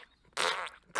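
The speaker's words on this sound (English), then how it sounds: "I remember her rank-ass old lady fart" An old lady's fart sound effect from Robot Chicken: two loud, raspy bursts close up, the first longer and the second cut short, with near-silence before and between them.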